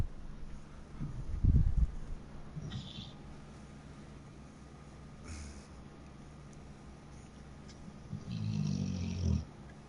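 A dog snores loudly, deep rasping snorts like a grown man's, in a couple of bursts near the start and a longer rumbling snore toward the end, over a quiet room hum.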